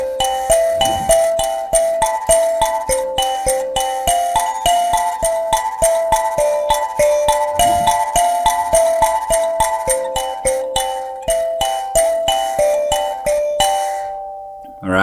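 Mbira playing the Shona piece Nhemamusasa, a steady interlocking cycle of bright plucked metal keys with buzzing resonance, repeating rhythmically and up close for about fifteen seconds before ending.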